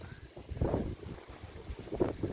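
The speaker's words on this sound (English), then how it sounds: "It's super windy today" Strong wind buffets the microphone over garden raised beds in low, rumbling gusts that swell and fade irregularly throughout.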